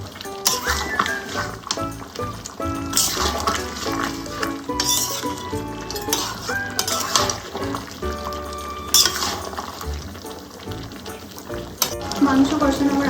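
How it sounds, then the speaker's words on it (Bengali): Mutton pieces mixed with ginger are stirred and braised in a pan for Bengali mutton curry, giving a steady sizzle with scraping spoon strokes, close up under a voice talking. "এবার আদাটা ভালোভাবে সমস্ত মাংসের সাথে মিশিয়ে দিয়ে আমি আরও 15 মিনিট ভালোভাবে কষিয়ে নেব।"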